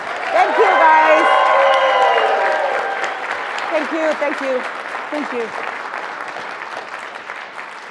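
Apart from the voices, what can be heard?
audience applause after a speaker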